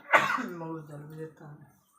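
A single throat-clearing cough from someone with a cold, a sharp burst followed by a voiced, drawn-out vocal tail, close and moderately loud.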